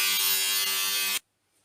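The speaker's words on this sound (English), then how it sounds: "I'll try and grind that down into a more regular shape now" A mosaic piece is ground into shape on an electric grinder with a steady, loud, high buzzing whine that cuts off abruptly, followed by near silence.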